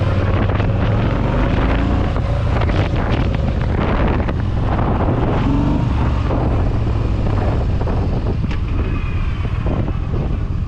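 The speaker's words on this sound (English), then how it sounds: "Now listen to these pipes." Motorcycle exhaust pipes idle and rumble outdoors on a bike from a comparison of a Harley 48, Suzuki Savage, Honda Magna and Yamaha Midnight Star, a low engine burble largely buried under loud, constant buffeting wind on the microphone.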